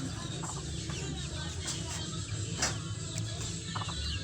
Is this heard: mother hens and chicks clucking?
yes